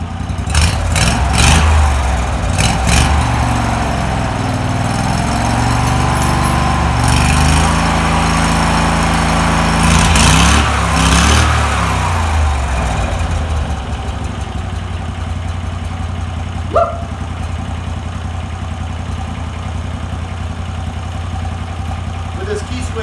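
A mini bike fitted with a lawnmower engine runs steadily and close by, revving and surging in the first half before settling into an even idle.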